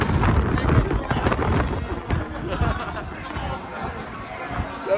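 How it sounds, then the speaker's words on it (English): Strong gusty wind buffets the microphone outside the Tokyo Dome in Tokyo, rumbling in loud bursts while a crowd chatters and voices talk nearby. "That was so windy, that was awesome."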